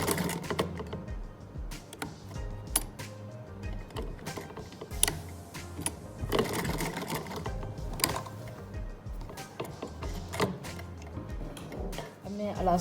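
A sewing machine runs in short bursts while stitching elastic onto the waistband of ladies' trousers, with rapid clattering runs broken by pauses and small handling knocks.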